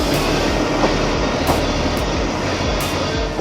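Kalka-Shimla toy train on the UNESCO heritage mountain railway near Shimla, a steady loud rumble of wheels on rails with faint periodic clatter over the joints, continuous and close, with no voices.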